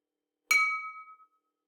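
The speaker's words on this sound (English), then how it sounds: "I tap the different glasses, and this is just a metal straw that came with my Yeti cup" A metal straw taps a drinking glass once, giving a single bright, clear clink that rings out with a fading high tone lasting under a second.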